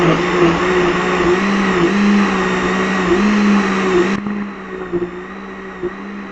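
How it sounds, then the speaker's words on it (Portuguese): A blender mixing bread dough batter with condensed milk whirs loudly with a steady motor drone, then shuts off after about four seconds, leaving a quieter background. "Agora a gente bate isso aqui no liquidificador."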